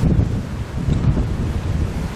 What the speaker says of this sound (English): these waves. Just keep crashing in more heavily now